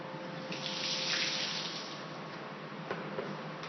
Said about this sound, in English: I applied the liquid rubber and pour some water over the 3D model I've got here.